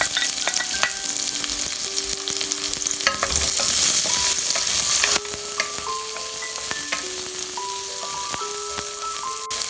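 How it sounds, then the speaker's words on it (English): Garlic, ginger and shallots sautéing in a pan give a dense crackling sizzle throughout, with repeated scrapes and clinks of a utensil stirring close by and no voices. "Okay, now we're going to saute our spices."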